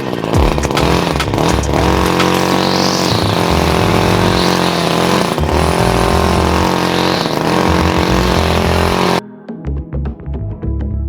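A Wild Badger 26cc gas-powered 4-in-1 string trimmer runs loud and close, its two-stroke engine buzzing and revving unevenly before dropping to a rough, sputtering idle near the end.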